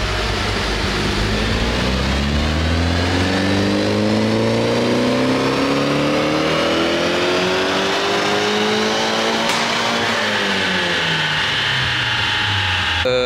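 A car with a swapped Nissan SR20 engine revs hard with rising and falling harmonics, stuttering and cutting out as it nears the rev limiter; loud, continuous and close, with no talk over it.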